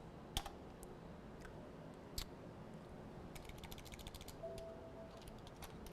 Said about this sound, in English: So we type in our clip name to match